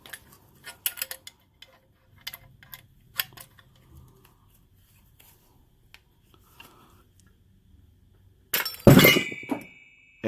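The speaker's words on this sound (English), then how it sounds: "And the bearing popped out that fast." A bearing pops loose from a motorized bicycle crankcase as a wrench turns the puller, giving a sudden loud metallic clank and rattle near the end after quiet, scattered ticks of tool handling.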